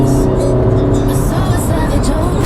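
The 1.6-litre naturally aspirated four-cylinder petrol engine of a 2016 Suzuki Vitara SZ5 accelerates with a loud, steady drone heard from inside the cabin, overlaid by road and tyre roar.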